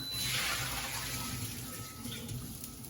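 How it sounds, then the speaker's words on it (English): Pasta cooking water pours steadily into a kitchen sink, a continuous close rushing splash that gradually eases, with no talking. "So we're going to drain that."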